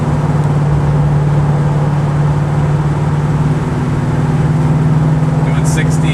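A 1972 Gran Torino Sport Fastback cruises smoothly at 60 mph, its engine a steady low drone with even road rumble from the cabin, with someone speaking over it.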